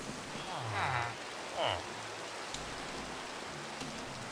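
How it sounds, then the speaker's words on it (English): Steady rain pours down in the block-building game Minecraft, a continuous hiss that fills the whole scene, with no voices over it. "And of course it's gonna rain, isn't it? It's gonna rain, instant I wake up."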